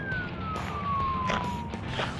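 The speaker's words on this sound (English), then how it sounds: "running their lights and sirens and everything" A police car siren wails on a police practice track near Glen Helen, one slowly falling tone in the distance over a steady background rumble.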